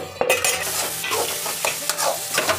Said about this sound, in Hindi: मिक्स कर लेंगे अच्छे से, पकने देते हैं मसाले को